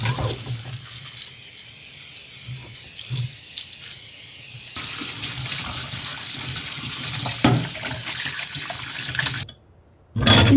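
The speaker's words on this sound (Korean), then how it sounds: "싱크대를 꼼꼼하게 닦아줍니다." Tap water runs and splashes into a kitchen sink during scrubbing, a continuous rushing flow broken by scrubbing shifts and a brief pause near the end before resuming, close and fairly loud.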